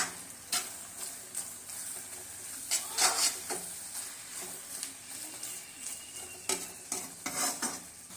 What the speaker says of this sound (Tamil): பருப்பை போட்டு ஒரு 2 நிமிஷம் நல்லா கிளறி விட்டுக்கலாம்